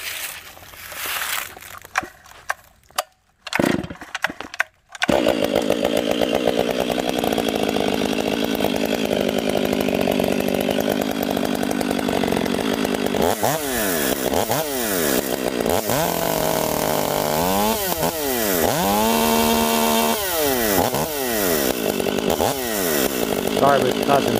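A fuel-injected Stihl 500i chainsaw with a loud aftermarket muffler roars loudly and steadily after a few sputtering starts, then revs up and down repeatedly in sharp whining bursts.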